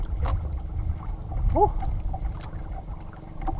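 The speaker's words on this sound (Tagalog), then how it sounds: "Ayan, tagal mamatay ng ating makina." A boat engine chugs with a low, uneven rumble that gradually weakens as it slowly shuts down after hard running, with faint water sounds around it.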